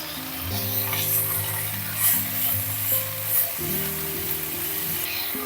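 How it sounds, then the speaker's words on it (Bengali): Chopped polta (pointed gourd) leaves frying in tempered oil for a Bengali shukto, a steady close sizzle with light stirring under a low tonal hum, no talking. "প্রথমে যখন তেলটা ফোড়ন দেবেন, তারপরে ওই পলতা পাতা কুচনোটা দিয়ে দেবেন"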